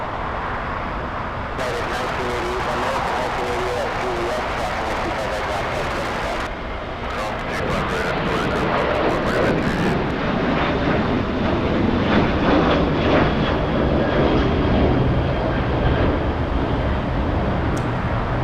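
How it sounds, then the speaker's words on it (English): A Boeing 777 takes off from a runway at LAX, heard as a steady, loud, broad roar that swells slightly and holds throughout, with people talking over it. "the 777 still on the runway and now cleared for takeoff"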